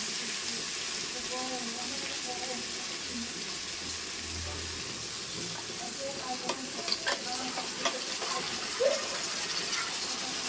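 Onion and tomato frying with spices in a pan give a steady, soft sizzle that runs throughout, with occasional stirring clicks and scrapes near the end.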